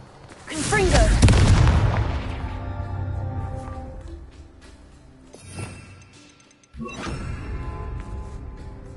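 A Confringo spell explodes in the Hogwarts Legacy video game, a loud booming blast that rumbles and fades over several seconds, followed later by a second, softer impact.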